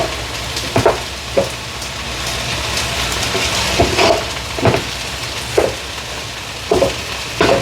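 Onion and shrimp fry in a pan with a continuous close sizzle, broken by periodic scraping stirs about once a second, and no voices.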